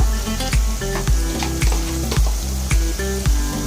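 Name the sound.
frying onion with ginger and garlic paste in oil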